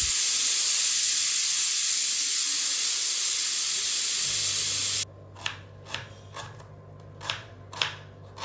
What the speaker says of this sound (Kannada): ಕುಕ್ಕರಲ್ಲಿ ಇದನ್ನು ನಾನು ಬೇಯೋದಕ್ಕೆ ಇಡ್ತಾ ಇದ್ದೀನಿ